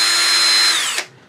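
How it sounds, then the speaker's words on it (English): A power drill with a small bit, about 3/32 inch, whines at high speed boring a tiny hole in a wooden coffee scoop handle, then winds down and stops abruptly, leaving near silence. "I would simply take a drill with an appropriate sized drill bit, maybe 3/32 of an inch, and just drill a tiny little hole."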